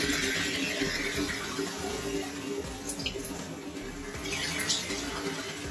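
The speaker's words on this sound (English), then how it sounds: "So I actually rinsed my hair with the warm water for several minutes." Warm water runs steadily from a tap while hair is rinsed to clear heavy product buildup, a continuous close splashing hiss with no one talking.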